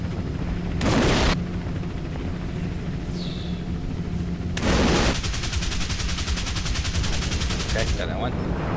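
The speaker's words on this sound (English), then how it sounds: "Let's shoot some of these SPAs from here." Helicopter gunfire aimed at SPAs in War Thunder, two loud bursts of shooting over a constant rotor and engine drone, the second followed by a rapid rattling stream of shots.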